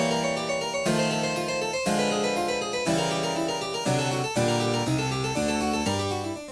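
Handel's passacaglia chord progression is played through as a whole. Sustained, rich chords change about every half second to second, forming a continuous, full musical passage with no talking.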